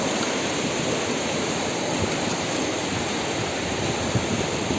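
The powerful Kokomeren River in Jumgal rushes in a loud, continuous roar of churning white noise that stays steady throughout.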